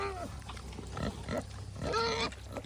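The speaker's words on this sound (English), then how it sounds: "Here's little foster pigs." Young foster piglets at an animal rescue grunt and squeal in short, irregular bursts close by, with a few brief high squeals breaking through the snuffling.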